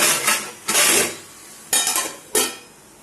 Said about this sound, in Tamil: இதை கொஞ்ச நேரம் நம்ம மூடி போட்டு